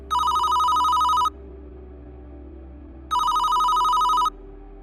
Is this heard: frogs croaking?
no